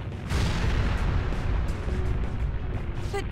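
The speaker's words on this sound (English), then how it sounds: "An explosion?" A deep, sustained boom and rumbling blast from an explosion in the video game Persona 5, set in Shido's Palace; loud, broadband and continuous for about three seconds with no talk.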